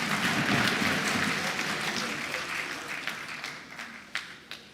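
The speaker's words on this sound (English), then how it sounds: "Please, may we give him a round of applause." Applause from the audience at a book presentation and graduation lecture: dense clapping from a crowd, moderately loud at first, then thinning and fading to a few scattered claps.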